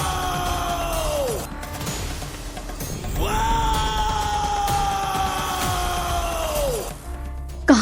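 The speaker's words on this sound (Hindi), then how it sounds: "शिवा की आंखें अचानक लाल हो गई और वो आसमान की ओर देखते हुए चिल्लाने लगा।" A man yells in two long, drawn-out cries, the second longer, each trailing off downward. A rumbling, dramatic background sits beneath them.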